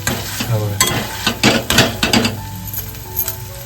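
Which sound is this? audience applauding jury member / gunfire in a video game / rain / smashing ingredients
smashing ingredients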